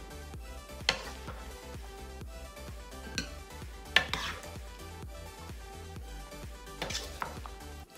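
Kaala chana salan spooned out of a pot into a serving tray, with repeated metal scraping and clinks of the spoon against the cookware, steady and close with no voice.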